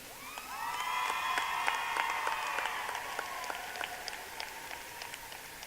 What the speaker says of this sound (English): one more round of applause for a great officer team